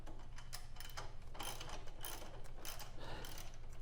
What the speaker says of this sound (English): I'm just going to go ahead and bust them loose here a little bit further